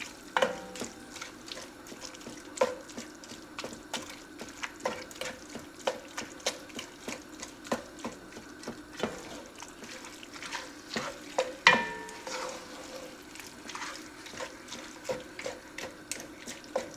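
Ground meat browning in a pan for cabbage rolls in a bowl, with soft scraping stirs, faint crackling and occasional clinks of a utensil against the pan, fairly quiet throughout.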